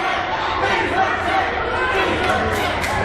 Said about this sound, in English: Lee's our champ chants from the audience.